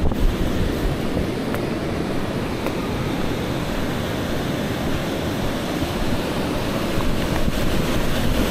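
Ocean surf rolls in at a Brazilian beach used for bodyboarding, a continuous broad wash of breaking waves and wind buffeting the microphone, steady and fairly loud with no voices.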